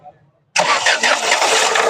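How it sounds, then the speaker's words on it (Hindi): After a brief quiet pause, a Ford Figo with an injector fault fires up on a single key turn and runs at a loud, close, even idle. "तो अभी एक चाबी में स्टार्ट हो रही।"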